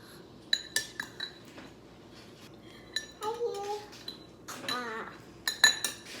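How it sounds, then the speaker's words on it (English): Utensils clink and tap against dishes up close while melted butter is spread on bread, in scattered sharp ticks. A child babbles in between. "now we're gonna spread the melted butter on top of the bread"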